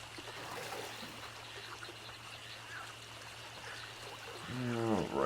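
Soft, steady trickling and flowing river water murmurs at low volume during a river crossing in the survival video game 7 Days to Die, over a faint hum, with a voice starting to speak near the end.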